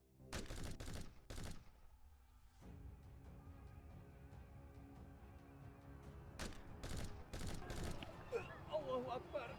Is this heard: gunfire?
yes